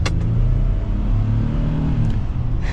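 A 2024 Ford F-150 STX 4x4 pickup accelerates under throttle, its engine producing a steady, close, loud low rumble that holds throughout without pause.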